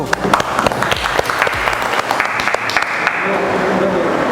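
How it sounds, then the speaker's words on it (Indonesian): Applause in a classroom during an automotive engineering teacher assessment at Universitas Negeri Malang, a group clapping in quick, crisp bursts that then blend into a steadier wash of sound. "Oke, tepuk tangan untuk kelompok 1."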